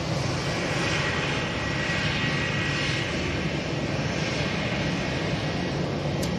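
EasyJet jet airliner at Manchester Airport bound for the Isle of Man, its engines giving a steady, loud broadband roar that holds evenly throughout with no talk over it.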